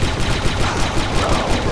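Sustained turret gunfire in Star Wars Republic Commando, a dense, loud and steady burst of rapid shots running the whole time with no pauses and no voices.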